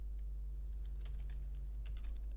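Soft typing on a computer keyboard, with scattered key clicks including a Shift+Enter press, faint and close over a steady low electrical hum.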